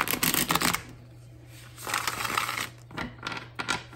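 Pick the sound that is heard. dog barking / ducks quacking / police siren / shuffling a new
shuffling a new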